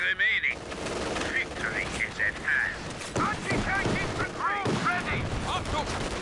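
Gun bombardment in Company of Heroes 2, rapid gunfire and booming blasts rolling through a busy battle, with chirpy game effects and a voice talking over the din.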